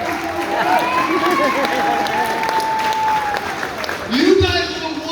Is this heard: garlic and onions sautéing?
no